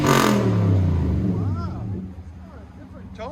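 A 2019 Nissan Titan pickup with its 5.6L V8 and Stillen cat-back exhaust revs hard and close by, the note rising then falling away as a voice speaks over the start.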